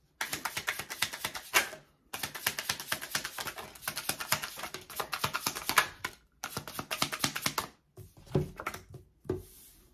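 Tarot cards pulled out and handled in quick bursts of crisp, rapid clicking and flicking, close and fairly loud, broken by short pauses, with no voices.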